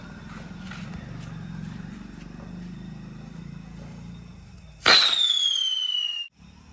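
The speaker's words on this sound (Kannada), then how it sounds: "ಎಲ್ಲ ಕಡೆ ಪಟಾಕಿ ಸೌಂಡು ಪಟಾಕಿ ಹೊಡಿತಾ ಇರೋದೆಲ್ಲ" A single Diwali firecracker bursts with a sharp, loud crack over a steady hum of background noise, followed by a high whistling hiss that trails off before cutting out.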